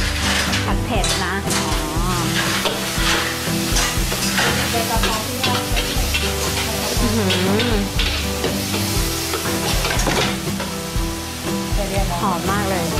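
Spicy seafood curry being stir-fried in a pan, with a loud continuous sizzle, repeated scraping and stirring, and a busy background of voices talking over the cooking.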